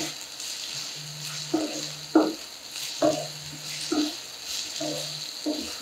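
Ginger garlic paste frying in a pan, a bright crackling sizzle with stirring scrapes and knocks, and muffled voices in the background.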